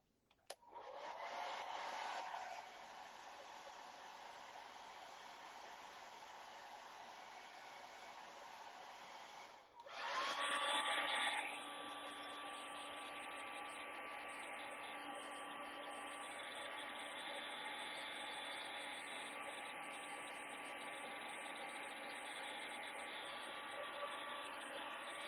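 A hair dryer whirs loudly and steadily, switches off briefly, then starts again and keeps blowing with a constant high whine.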